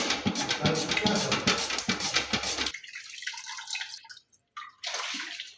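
Potatoes are washed in water for wafers: vigorous splashing and sloshing for a few seconds, then quieter drips and small trickles with brief gaps.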